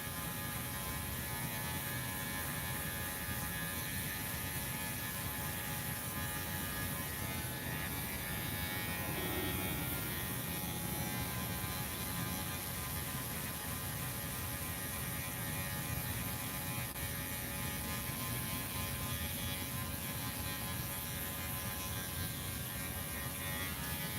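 Electric hair clippers buzzing through a bald fade haircut, a steady close electric hum that runs without pause throughout.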